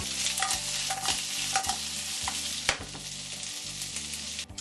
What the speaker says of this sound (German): In einer Pfanne gebe ich wieder einen guten Stich Kräuterbutter und schwenke die Kartoffeln mehrmals darin.